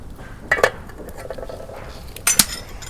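A lid goes onto a pot where eggs and potatoes are boiling for an egg and potato curry. Two sharp metallic clinks about two seconds apart sound close by over a quiet background.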